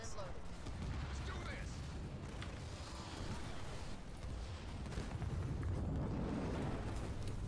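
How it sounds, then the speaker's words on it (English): Artillery cannons in the Halo Wars 2 strategy game fire continuously, a dense low rumble of booms and blasts rolling through the whole stretch with no clear gaps. "I'm gonna just let the artillery cannons do the work."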